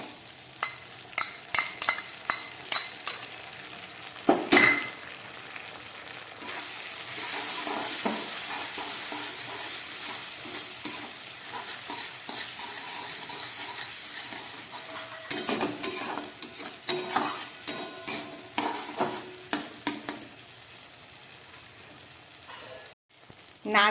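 Ground poppy seed paste goes into a hot pan for a paneer malai curry and is stirred, bringing a steady sizzle punctuated by repeated sharp clinks and scrapes of a spoon against the pan, close up and without talk.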